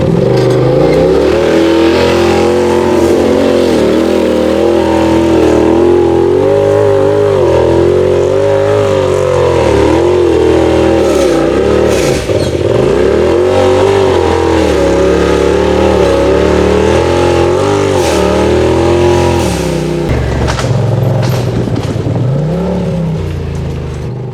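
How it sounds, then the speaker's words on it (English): A big-tire ATV buggy on Super ATV Gen 2 portal gear revs hard while climbing a hill, its engine rising and falling loudly and continuously with no talking. "big tire buggies can still climb hills too."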